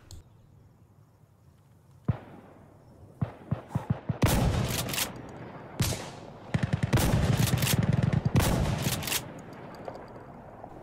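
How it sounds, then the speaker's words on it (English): Slugs fired from an M870 shotgun in Insurgency Sandstorm, a series of sharp loud blasts in irregular clusters, some shots quickly following one another and others spaced apart, with fading tails between them. "I want to show you a clip of me in-game shooting with a slug at distance"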